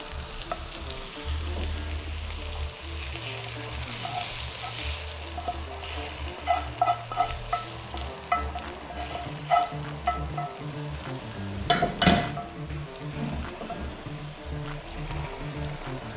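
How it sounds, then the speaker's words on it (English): Spices toast in a pot for BBQ pulled pork, giving a soft, continuous sizzle with scattered light stirring clicks and scrapes, one louder clatter late on, all fairly quiet and close. "Something that's very important is toast the spices."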